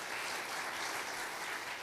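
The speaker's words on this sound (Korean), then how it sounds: "쿠마 교수님께 큰 박수 부탁드립니다." An audience at a Korean academic forum breaks into steady, even applause to welcome a professor, a dense wash of clapping at moderate distance with no voices over it.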